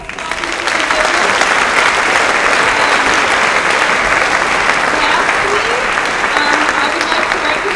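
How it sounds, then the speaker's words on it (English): Loud, sustained applause from a crowd at a high school awards night, dense continuous clapping that stays full throughout. "If I could get a round of applause for all these individuals"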